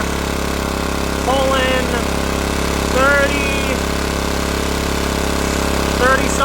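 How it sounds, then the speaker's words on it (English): A small off-grid generator engine runs steadily at idle throughout, a constant low drone with faint rising whistling tones over it and a person talking nearby. "Engine choke. Let's get it running. Engine's running."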